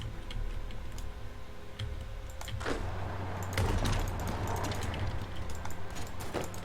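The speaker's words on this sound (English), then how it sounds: "Okay, just some random clicking." Quiet, irregular computer mouse clicks tap away during a Hearts of Iron 4 strategy game session, with a faint hum and soft game sounds underneath.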